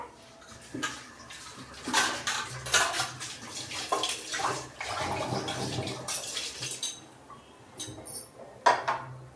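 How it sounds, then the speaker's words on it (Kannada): Dishes and pots clatter and scrape under running water, with intermittent clinks and splashes close by. "ಪಾತ್ರೆಗಳನ್ನ ಅಲ್ಲಲ್ಲೇ ತೊಳ್ಕೊಂಬಿಟ್ರೆ ಫ್ರೆಂಡ್ಸ್, ಜಾಸ್ತಿ ಪಾತ್ರೆಗಳಿರಲ್ಲ"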